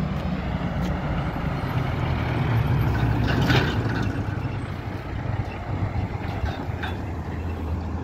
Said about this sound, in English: Coors Light truck.